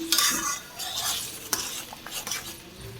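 Ginger and cumin paste with egg masala spices fries in a home kitchen pan, crackling and sizzling softly while a utensil scrapes and clinks against the metal in short bursts. Nobody talks.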